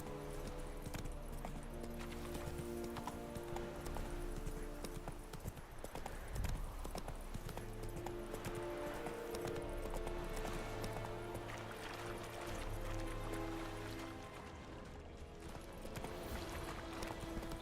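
Horse hooves gallop in The Witcher 3: Wild Hunt in a steady clip-clop rhythm throughout, over a constant bed of game music and ambient tones, without a break.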